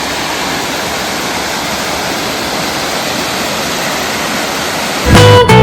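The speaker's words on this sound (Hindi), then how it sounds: "झरने की आवाज को महसूस कीजिए दोस्तों।" Continuous roaring rush of a waterfall near Bhadraj Temple outside Mussoorie, loud and steady broadband noise throughout, with a brief different sound at the very end.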